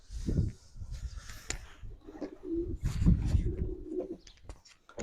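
Pigeons in a breeder's loft give soft, low cooing calls amid quiet rustling and shuffling, the coos drawn out and faint over a busy, muffled background.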